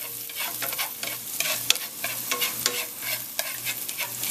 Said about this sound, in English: We have our handy dandy giant cooking chopsticks to help us fry this up.